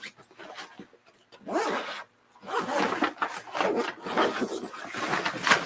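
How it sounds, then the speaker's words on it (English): A zipper on an avalanche airbag backpack compartment pulled open in several long rasping strokes, close and fairly loud, with a short pause between pulls. "There's a zipper in here."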